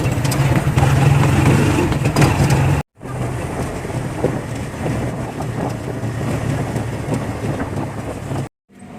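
A motorized tricycle's engine drones steadily during a ride, heavily buffeted by wind noise on the microphone. The sound cuts out briefly near the three-second mark and again at the end.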